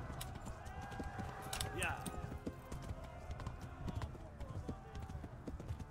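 Horse hooves galloping in the medieval video game Kingdom Come, a fast continuous clip-clop rhythm throughout, with a brief whinny-like sound partway through.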